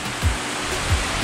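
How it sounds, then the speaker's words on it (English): Water rushes steadily down a tiered waterfall in the Philippine countryside, a dense continuous roar with a couple of low thuds, close by and with no talking. "This is a tiered waterfall, not slippery at all."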